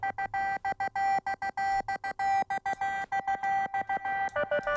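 An alien-signals synth effect preset plays rapid, chopped bursts of bright electronic tones in a gated, stuttering rhythm, like dialing beeps, continuous and clean with no voices.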